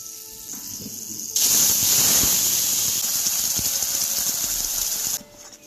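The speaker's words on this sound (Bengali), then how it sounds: "এবার আমি এর মধ্যে দিয়ে দিচ্ছি এই বেটে রাখা পাতাটা" Ground leaf paste drops into hot oil with black cumin, setting off a sudden loud, hissing sizzle that holds steady for several seconds before cutting back to a quieter background.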